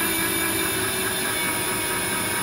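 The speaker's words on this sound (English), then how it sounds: "we'll start the machine up now, and we'll take that 30 thou off this face" A lathe takes a facing cut across a mill nut housing at about 270 RPM, producing a steady, loud mechanical drone with constant tonal whine and no pauses or talking.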